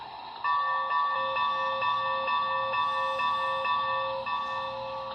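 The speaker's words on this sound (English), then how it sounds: "Number 1, obviously your bell." A small electronic bell from an HO-scale BLI Big Boy model train sound decoder rings repeatedly in an even, steady rhythm, clear and close, with a faint mechanical hum underneath.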